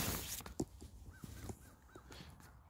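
Crows caw outdoors in a series of short, rising-and-falling calls, about four or five caws spaced through the clip, at moderate distance over a faint ambient background.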